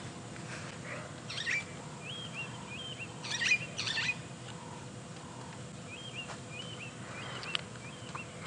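Starlings and a white-browed scrub robin call at dawn on a sunrise safari drive at Nkuhuma, giving repeated short chirps and whistled phrases. The birds sound moderately distant over a low, steady background rumble.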